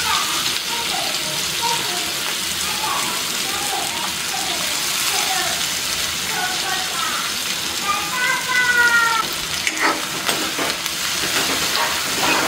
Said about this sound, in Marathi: छान असा गोल्डन ब्राउन होईपर्यंत आपण कांदा फ्राय करून घ्यायचा आहे।